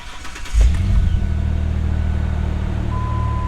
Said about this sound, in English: Let's see if it fires up and has any misfires.